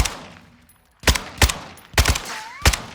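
RPK machine gun in Warzone 2 firing a handful of separated loud bursts and single shots, close up, with short pauses between and no talking.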